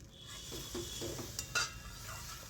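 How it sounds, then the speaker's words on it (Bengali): Water for gravy is poured into fried onion-paste spice masala for an egg curry tempered with fenugreek, producing a soft sizzle and bubbling with light stirring clinks, fairly faint and close. "এবার প্রয়োজন মতো ঝোল দিয়ে দিলাম"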